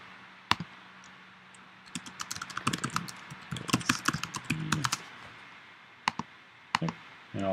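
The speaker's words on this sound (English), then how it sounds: "And if we type in hello search testing." Typing on a computer keyboard, a close burst of quick irregular key clicks that thickens in the middle and thins to a few isolated taps near the end, with no voices.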